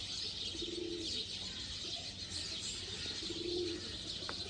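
Sialkoti black-faced pigeons in a home breeding loft give two soft, low coos, faint against a hissy background, with no voices.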